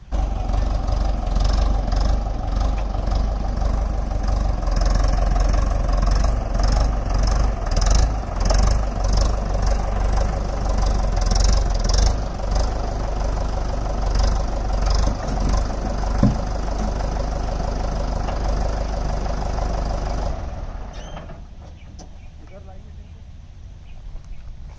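A tractor fitted with a rotavator idles loudly and steadily close by as it is moved into position, then the engine note drops away near the end.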